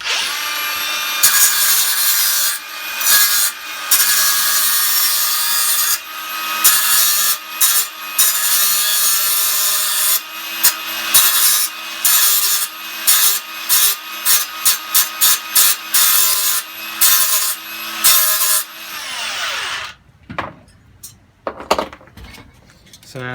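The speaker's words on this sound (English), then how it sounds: "So now what I'm going to do is I'm just going to give that a little grind." Power grinder working chrome boot trim on a 1959 Chevrolet Impala in a home garage, loud harsh bursts of grinding repeated in quick stops and starts, close, then tapering off into quieter handling noises at the end.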